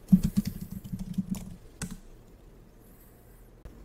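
Quick bursts of computer keyboard typing entering a short command on a Windows PC, a rapid run of clicking keystrokes for about a second and a half, then a lone key press near the end, close and fairly clear.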